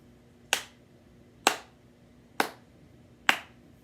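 Four evenly spaced hand claps, sharp and close, mark out a steady rhythm of quarter notes against a quiet room with no talking.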